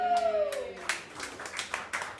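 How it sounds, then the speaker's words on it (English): Comedy club crowd in a Minneapolis venue applauding, a scattered burst of clapping that swells then thins out over a couple of seconds at moderate distance. "Give her a round of applause, seriously."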